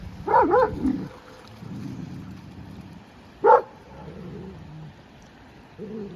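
Dogs attacking other dogs: two sharp, loud barks, one near the start and one midway, with lower growling and scuffling noise between them and rain-like hiss in the background.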